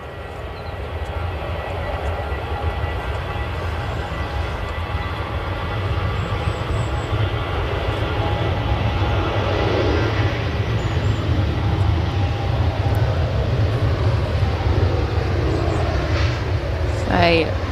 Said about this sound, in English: Ryanair 737 off to Carcassonne